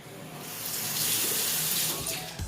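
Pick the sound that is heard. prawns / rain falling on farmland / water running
water running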